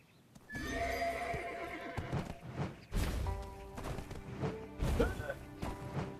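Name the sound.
horse neighing and hooves in video game Tale of the Changui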